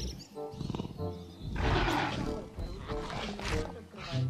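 Two tigers roaring in the video game Jurassic World Evolution 2, loud sustained growling roars filling the clip alongside wild animal game sounds.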